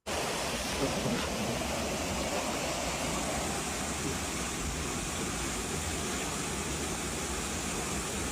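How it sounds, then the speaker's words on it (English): Steady broadband rush of a waterfall close at hand, continuous and fairly loud, filling the whole stretch with even white-water noise and no clear voices over it. "You can see this is right next to this beautiful waterfall."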